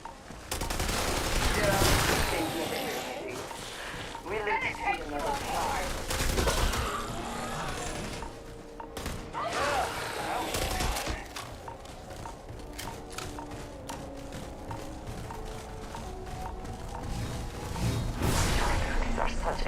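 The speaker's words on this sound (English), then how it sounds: "What the hell are you shooting at?" Gunfire in the video game Starfield: dense, loud bursts of rapid automatic shots and single blasts filling the whole stretch, with whooshing effects and brief pauses between volleys, no talking.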